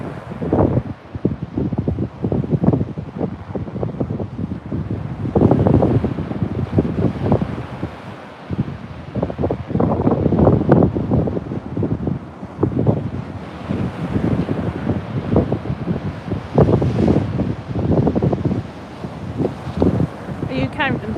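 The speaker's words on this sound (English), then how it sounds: "The wind is picking up though" Gusty wind buffets a beach during sea fishing casting practice, roaring in a steady loud rush with surges and rumbling microphone noise, and people talk throughout.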